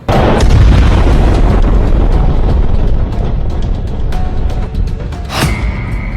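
An Israeli air force bombing in southern Lebanon comes through as a loud, rumbling blast at the start. Scattered booms and sharp cracks follow over a persistent low roar.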